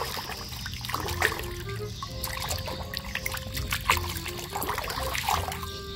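Clean water trickles and splashes steadily over muddy toy animals being washed, a close, continuous pouring and dribbling with small bursts of splashing throughout.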